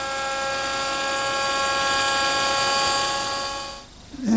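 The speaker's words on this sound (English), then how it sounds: "Here at my router station, I've installed the same dovetailing bit I used to make the socket" A router spinning a dovetail bit at a router station cuts a wooden table leg, giving a loud, steady high-pitched whine with strong tonal harmonics that holds for several seconds before spinning down near the end.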